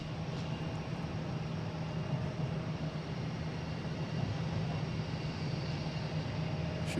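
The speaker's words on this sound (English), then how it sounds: "next coming in is American Airlines from LAX" An American Airlines A321neo from LAX arrives at Boston Logan International Airport, heard as a steady, broad jet-engine roar with a low hum that stays constant at moderate distance.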